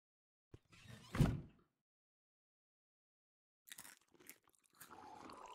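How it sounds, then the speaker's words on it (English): A character in the Medieval Dynasty video game chews and swallows food in a short crunchy burst, then more faint chewing and mouth sounds follow after a silent gap. "I don't need to hear you swallow."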